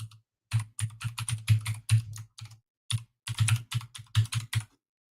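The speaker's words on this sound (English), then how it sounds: "I'm going to type it for you" Close, crisp clacking of keys on a computer keyboard, in two quick bursts of typing split by a short pause, with no voices.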